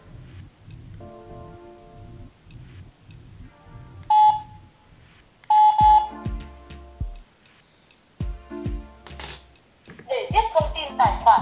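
A repaired phone loudspeaker plays short tonal beeps and alert-like sounds at a distance, with brief bright bursts between quieter stretches and low background murmur.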